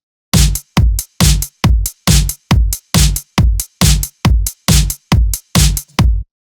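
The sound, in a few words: simple EDM chorus drums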